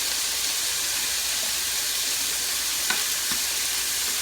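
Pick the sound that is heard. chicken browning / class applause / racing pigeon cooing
chicken browning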